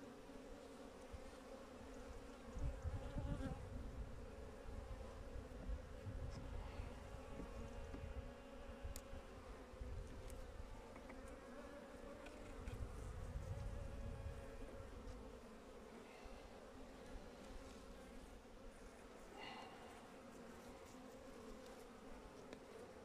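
Honeybees buzz steadily around an open beehive in mid-March, a dense, continuous hum close by with swells of louder wingbeat as bees pass near, no talking.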